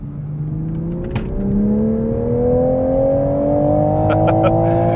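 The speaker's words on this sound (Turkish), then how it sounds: "Sırada tekrar aracı son bir kez spor modunda hızlandıralım." A 2021 Toyota Supra accelerating hard in sport mode, its engine note climbing steadily and loudly through the revs as the car pulls, heard from inside with no talking.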